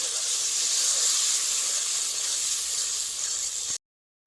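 Ground masala paste, loosened with water, sizzles and hisses steadily in a hot pan for several seconds before cutting off abruptly.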